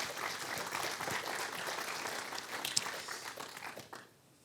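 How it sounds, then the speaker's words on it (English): An audience at a learn-to-swim conference opening applauds steadily for a few seconds, the clapping thinning and fading out near the end. "Applause one more time,"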